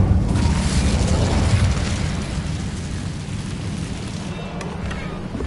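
Incendio fire spell cast in Hogwarts Legacy on PS5: a loud, sustained rushing roar of flame, dense and steady throughout, easing off slightly toward the end.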